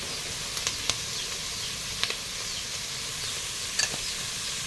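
A sizzling pan of peach mixture, with chili flakes and pepper stirred in, hisses steadily at close range, with a few faint scrapes and clicks from the stirring and no voices.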